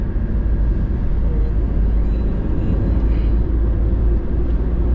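A car cruising at around 80 in fifth gear on a paved road between Velachery and Tambaram, heard from inside as a steady, loud, low engine and road drone with constant wind and tyre rumble, no talk.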